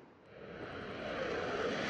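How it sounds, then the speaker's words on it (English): A Swiss fighter jet flying during a NATO Arctic exercise, a steady, moderately faint engine roar that slowly grows louder through the short clip. "This Swiss fighter jet is just one of 100 aircraft taking part in NATO's Arctic exercise this week."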